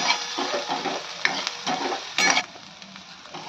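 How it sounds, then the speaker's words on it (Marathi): Spicy soybean mixture being stirred in a pan, a utensil scraping and turning food with a soft sizzle in repeated close strokes, no talk. "हे सगळं एकत्र करून घ्यायचं"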